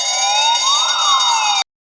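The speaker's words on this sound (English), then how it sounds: "if both the siren and bell are activated" A loud electronic emergency siren on a construction site, wailing steadily with its pitch sweeping up and back down, then cutting off abruptly.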